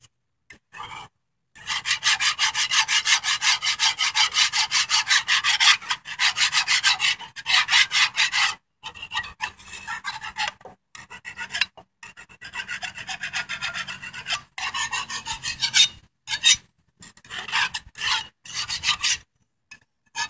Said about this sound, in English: And then you want to take a putty knife and kind of just scrape away the paint.